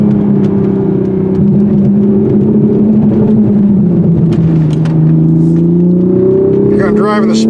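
A 2020 Toyota Supra in sport mode pulls hard, its engine drone rising and swelling in pitch under load, loud and close inside the cabin, ending with a brief higher mechanical whine.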